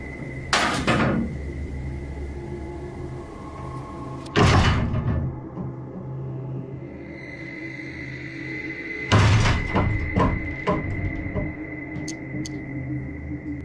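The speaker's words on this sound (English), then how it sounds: "You can literally see the demon on camera moving the crib and then breaking the wardrobe doors." Wooden wardrobe doors banging and a crib shifting in a room, three loud separate knocks and clatters spaced several seconds apart, followed by smaller rattling thuds, with quiet hum between.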